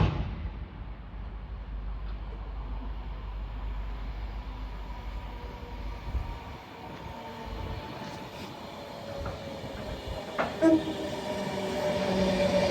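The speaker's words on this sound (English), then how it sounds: "Soon to arrive in now will be the 10:43 Avanti West Coast service from Manchester Piccadilly to London Euston." An Avanti West Coast train from Manchester Piccadilly to London Euston draws into Nuneaton station on the West Coast Main Line, a low steady rumble with occasional squeals and a distant horn-like tone.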